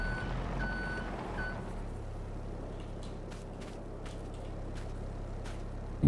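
A forklift reverses with steady electronic beeping in Farming Simulator 22, a repeating tone over a continuous low engine drone, heard alone with no talk.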